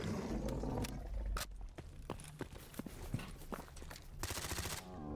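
Sustained automatic gunfire from a weapon emptying just over one magazine in S.T.A.L.K.E.R. GAMMA, aimed at a Black Chimera, with a dense burst at the start, then rapid shots through the middle and a loud roaring burst near the end.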